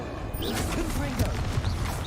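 Confringo fire spell blasts in Hogwarts Legacy rumble in a steady, noisy wash, with a voice shouting over the effects.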